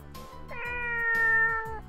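A cat meows once in the visual novel Muv-Luv Extra, a clear drawn-out mew rising then held, close and alone over a faint looping background tune.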